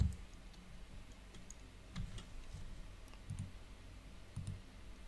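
Keys clatter softly on a computer keyboard while text is entered in Siemens HMI software, a few short clusters of clicks spread across the quiet stretch with no talk.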